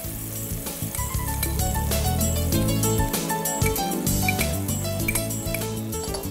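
Spring onion whites, ginger and garlic dropped into hot oil, giving a steady, close sizzle and crackle throughout with occasional light clinks of a utensil and no talking.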